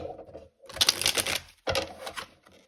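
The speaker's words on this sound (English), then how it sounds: "And we'll just do one final shuffle." Tarot cards shuffled in two quick riffling bursts close to the microphone, crisp papery flutters separated by a short pause.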